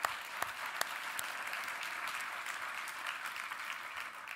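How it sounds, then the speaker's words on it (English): A full-house audience gives a round of applause to the panelists at a business talk, a soft, even patter of many hands that continues throughout with a few sharper claps near the start. "a round of applause for our panelists, please"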